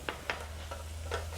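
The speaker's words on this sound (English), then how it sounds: "Stir that in a little bit, and then I'm going to sprinkle in a 1/2 cup of flour." Flour is stirred into a pot of wild rice mushroom soup to form a roux, giving a few soft, brief scraping strokes spaced apart over a steady low hum.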